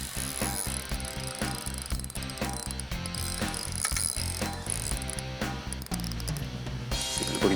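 A fishing reel's drag clicks in a rapid, steady ratchet run as a hooked pike takes line, loud and close throughout with no speech over it.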